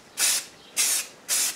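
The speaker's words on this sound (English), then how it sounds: "get the spray flowing really nicely" Three short, sharp bursts of hiss from a Rust-Oleum spray paint can, evenly spaced about half a second apart, close and crisp with quiet gaps between.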